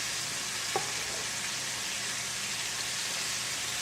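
Bone-in Southern fried chicken deep fries in a crowded pan of oil running around 325 degrees, giving a steady, dense hiss throughout with a single faint tap.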